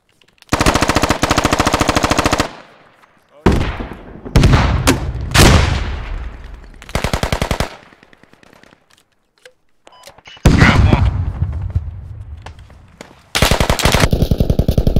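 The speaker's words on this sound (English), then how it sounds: "I hear shots southwest again" Gunfire in a house-to-house firefight in the Squad military game: loud, rapid machine-gun bursts alternate with single heavy shots and brief quiet gaps, some close and sharp, others with a trailing echo.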